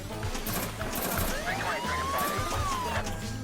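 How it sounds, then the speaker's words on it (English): A police siren sweeps up and down over steady, busy machine noise from a Lethal Weapon 3 Legendary Edition remake pinball game, lasting the whole stretch at a moderate level. "So I did a nice bit of a police radio thing there and a little siren"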